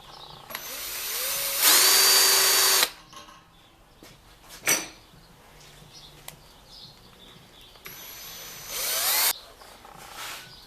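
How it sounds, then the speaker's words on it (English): A power drill whirs in two loud bursts, with a whining pitch as it bites into metal, separated by quieter handling clicks and clatter. "Just drill a little bit, and it'll leave a mark in the metal"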